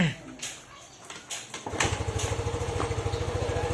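A Yamaha Mio i 125 scooter with a charging-system fault starts up after a few clicks and handling noises, then idles with a fast, even putter close by.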